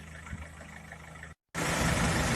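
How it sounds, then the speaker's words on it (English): A Rover 75 diesel engine runs during a shakedown test after new belts were fitted, idling with a steady low rumble, cut by a brief gap, then a louder broadband roar with roadworks nearby. "hope you can hear me over the sound of the roadworks and the diesel engine"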